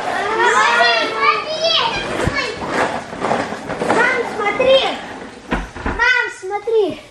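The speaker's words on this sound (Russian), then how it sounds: "Дети тут катаются." Children playing and riding outdoors, many young voices shouting and chattering close by over a constant busy background.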